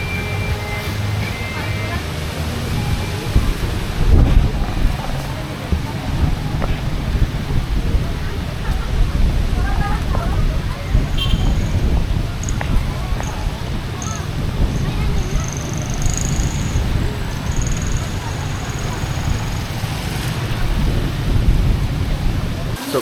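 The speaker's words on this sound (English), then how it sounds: "it's been going like crazy, raining like absolutely mad." A storm blows over a beach bar in Roxas City, Philippines, with heavy rain and gusting wind making a loud, constant roar and rumbling wind buffeting on the microphone. Faint voices sit under it.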